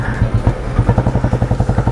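An old Royal Enfield Bullet motorcycle being ridden, its single-cylinder engine giving a loud, close, steady, rhythmic thumping beat.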